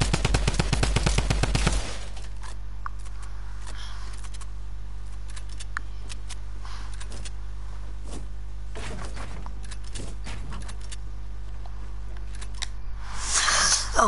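A loud, rapid burst of automatic gunfire from someone firing off ammo, lasting about two seconds, then near silence with only faint scattered clicks and a brief swell of noise near the end.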